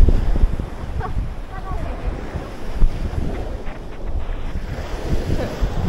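Big ocean surf rolls onto a beach in strong wind, with a steady broad wash of breaking waves and heavy wind buffeting close to the microphone throughout.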